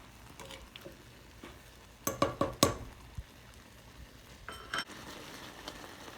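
Boiling cranberries snap and burst in a quick cluster of sharp pops, followed by a few scattered later ones over a low simmer, heard up close without speech.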